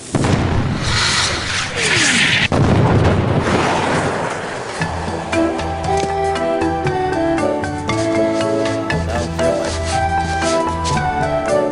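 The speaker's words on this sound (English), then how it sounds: "Now roll out the really big cannon and blow up those terrorists this instant!" In the video game Escape From Monkey Island, a big ship cannon fires with a loud, rumbling boom lasting a couple of seconds. Game music then takes over and plays on.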